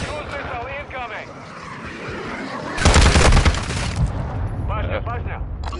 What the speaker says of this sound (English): I think that was a cruise missile that missed me.